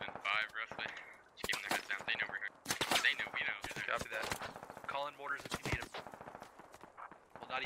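Distant and mid-range gunfire bursts and single shots from the military shooter Squad crackle under near-constant radio-style voices talking, with short sharp transients scattered through the clip.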